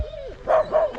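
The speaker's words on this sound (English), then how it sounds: "check out these dogs here" Dogs in a village street in Aurora, South Africa, giving two or three quick, close barks with a whiny yelp before them.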